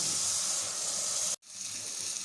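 Keema (minced meat) and tinda gourd sizzle steadily in a pan as their released water cooks off, a dense frying hiss broken by one brief silence partway through.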